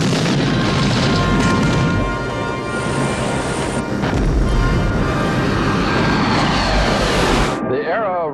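A bomb blast from the 1987 James Bond film The Living Daylights rolls out as a loud, sustained booming roar mixed with aircraft engine drone, ending abruptly before a short trailing sweep; voices are present.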